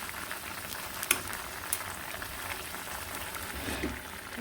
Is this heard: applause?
no